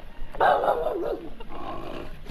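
A big dog gives a deep, loud bark followed by a lower growling rumble, close by, over steady background noise.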